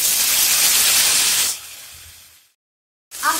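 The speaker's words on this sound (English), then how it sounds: "We add chopped onion and fry 1 minute" Chopped onion and tomatoes frying in a pan give a steady loud sizzling hiss that fades to a low simmer, breaks into silence, then starts sizzling again.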